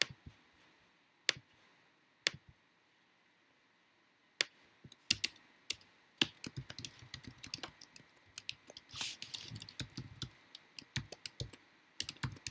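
Someone types on a computer keyboard: at first a few isolated key clicks with pauses, then fast, irregular bursts of clattering keystrokes, close and crisp, with no talking.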